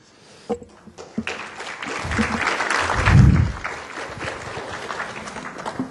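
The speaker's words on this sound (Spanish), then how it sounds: "merecidos aplausos a nuestro ponente en esta noche, en esta charla magistral" Applause from a lecture audience after a talk on the ISO 37001 anti-bribery standard, starting with scattered claps, swelling to a full round, then thinning out.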